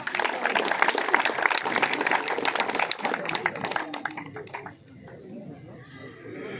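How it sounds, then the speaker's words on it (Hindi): An outdoor crowd at a Charsadda cricket league final applauds a chief guest with brisk, dense clapping that fades after about five seconds into murmuring chatter and background noise. "आपकी भरपूर तालियों में हाजी ज़ीशान खान साफ़ी।"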